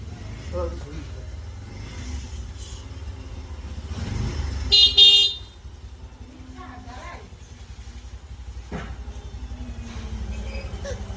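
A motorcycle engine idles with a low, pulsing hum throughout, broken by a short horn blast midway, while people talk nearby.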